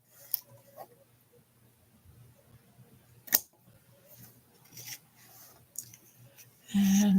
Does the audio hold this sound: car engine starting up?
no